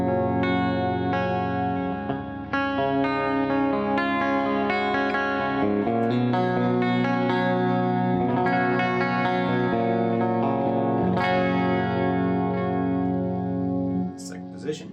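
An electric guitar played on its bridge pickup, a restored fire-damaged instrument, runs through a Neural DSP SLO amp plugin with chorus and compression. It rings out sustained improvised chords and melodic lines, loud and unbroken for the whole stretch.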